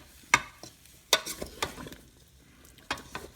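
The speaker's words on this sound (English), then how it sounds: "And get that stirred up in there." Garlic stirred into hobo stew in a rice cooker, heard as a few sharp scraping stir strokes with quiet gaps between them, close and fairly soft.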